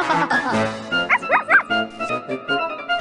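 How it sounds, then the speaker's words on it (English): A cartoon aphid pet in A Bug's Life video game gives a few bright, yappy dog-like barks, close and clear, amid a backing music score. "I'll give you a tasty treat if you'll bark for me"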